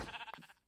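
A sheep in Minecraft gives a single short, faint bleat, a brief wavering cry that quickly fades.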